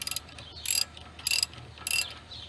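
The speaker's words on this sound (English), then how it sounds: "take your wrench and thread it on out" Ratchet wrench clicking as it backs a toe link bolt out on a Pontiac G6, three short bursts of rapid metallic clicks with short pauses, close and alone.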